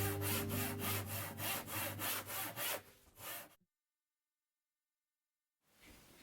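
Hand saw cutting through wood during a stair makeover, steady rhythmic back-and-forth strokes for about three seconds, then the sawing stops and falls silent before faint noise returns.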